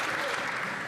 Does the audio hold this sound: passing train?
no